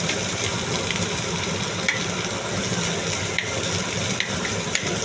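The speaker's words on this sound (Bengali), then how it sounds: "রসুনটা একটু ভাজতে দিচ্ছি" Garlic and green chili fry in hot oil with a steady, dense sizzle, joined by a few soft stirring scrapes; close and continuous, with no voices.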